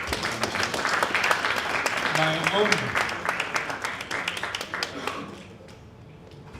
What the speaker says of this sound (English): I want you to give her a very big applause